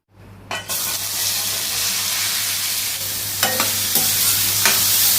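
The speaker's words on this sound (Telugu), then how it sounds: "ఇప్పుడైతే ఆయిల్ అయితే కాగిందండి, ఉల్లిపాయలు వేసుకుందాం." Sliced onions hit hot oil for an egg masala curry, setting off a loud, steady sizzle with a few sharp spatula clinks near the end, and no one speaks.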